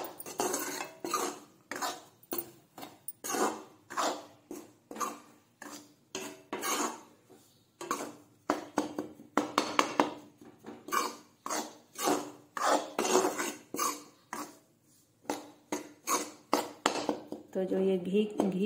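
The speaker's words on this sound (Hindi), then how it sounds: "ये हमारा प्रसाद भून रहा है। तो इसे अच्छे से भूनेंगे।" Wheat flour prasad roasts in ghee in a pan and is stirred with a spoon, giving a close, rhythmic run of scraping strokes, roughly two per second. The strokes continue steadily for the whole stretch, with brief pauses.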